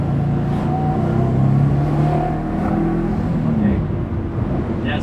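1995 Subaru GC8 under boost with a boost fault, its engine note rising steadily through a pull, loud and close with a droning, slightly rough tone and some talk over it.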